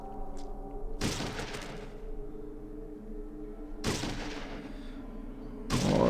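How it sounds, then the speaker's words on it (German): Loud, heavy gunshots from the video game Fallout 2 during a fight with bandits: two long booming blasts with ringing decay and a third starting at the end, over a low steady game hum. "Ich wollte einen gezielten Schuss machen."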